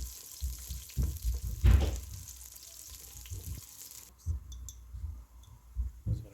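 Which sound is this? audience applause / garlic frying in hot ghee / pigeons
garlic frying in hot ghee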